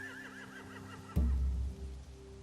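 Horses in The Walking Dead video game let out a wavering whinny followed by a sudden heavy thud and rumble, with a low background hum throughout.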